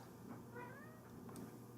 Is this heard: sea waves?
no